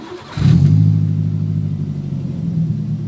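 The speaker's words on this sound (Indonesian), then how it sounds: "sekarang kita coba nyalakan mesinnya dulu" A Daihatsu Gran Max fitted with an Alpino aftermarket exhaust starts after a brief quiet moment, then settles into a loud, steady low idle rumble that carries on alone.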